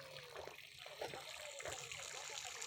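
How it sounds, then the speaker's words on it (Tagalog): A water fountain at a farm, faint splashing and trickling, with voices murmuring quietly underneath. "Ganda lang fountain nila."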